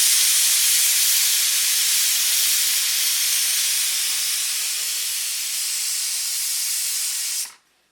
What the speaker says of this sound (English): this is the pressure cooker. You put it on high, and I'll show you what this does